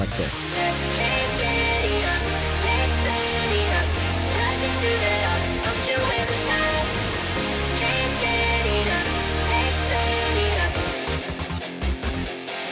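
A dense, full music track plays steadily with layered synths and bass but no drum beat, ending in a brief choppy cut-off.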